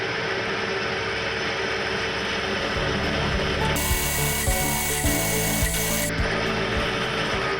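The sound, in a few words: drilling metal on a milling machine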